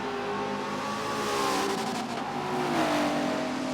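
A Nissan GT-R race car in a racing video game at Road America revs and accelerates through the gears, its engine note rising and falling continuously with faint tire noise, loud and without speech.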